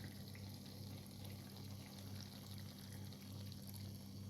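Liquid poured steadily into a pot of fish cooking on the stove, a continuous soft splashing stream over a low constant hum, with no talking.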